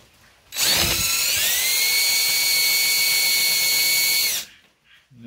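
A power drill bores into the brass identification plate of a 1950 Farmall Cub tractor, a single loud high whine that starts abruptly, holds steady for about four seconds, then cuts off into quiet.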